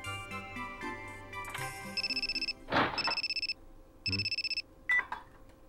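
A telephone rings in a Japanese video game, with repeated bursts of trilling electronic ringtone over background music and game sounds, close and fairly loud, broken by a brief noisy swoosh.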